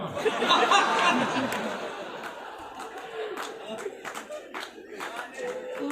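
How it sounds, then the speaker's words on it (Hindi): An audience at a Hindi comic poetry gathering claps and laughs, a loud burst of applause at first that thins into scattered claps and chuckles, with murmuring voices underneath. "आप तालियां बजा बजा के थक लिया"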